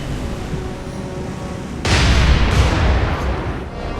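Shells from 5-inch naval guns strike a ship in War on the Sea, a heavy burst of rumbling impacts and blasts that rises abruptly over steady background noise and then fades.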